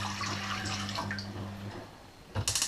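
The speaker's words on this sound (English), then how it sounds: "So here we have 1/2 litre of water. So we'll put that in the pan." Half a litre of water poured into a pan, a close, steady splashing under a low hum, then a brief sharper clatter near the end.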